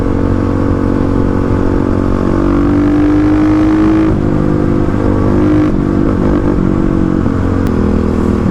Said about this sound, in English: it feels good to have the KLX back. Oh, how I've missed the brap noises, that thumper sound